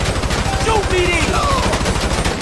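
Video game gunfire, a rapid automatic burst of dense, evenly spaced shots, loud and continuous, with brief voice sounds mixed in.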